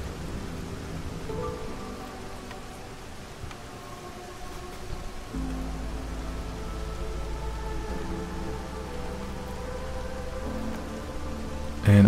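Storm rain in the strategy game Against the Storm, a steady hiss of heavy rainfall with low rumbling underneath that deepens midway, continuous and moderately loud, with no voices.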